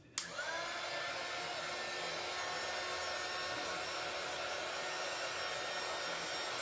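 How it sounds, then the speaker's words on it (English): A small hot air gun drying paint on a board clicks on, then blows with a steady, close whooshing hiss and fan whine that continues evenly throughout. "And this is just a little hot air gun."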